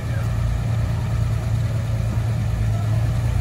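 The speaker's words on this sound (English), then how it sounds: "this engine sounds really smooth" A classic car engine at an Arizona classic car auction idles with a smooth, steady low rumble that stays close and even throughout, with no revving and no knock or tick.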